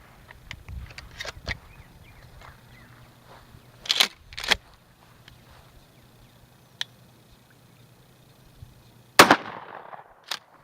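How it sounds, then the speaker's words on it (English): Federal Power-Shok buckshot fired from a shotgun at 20 yards, a few sharp reports spaced apart, heard from a distance against quiet outdoor background with faint small noises between. "that was at 20 yards shooting the Federal Power-Shok"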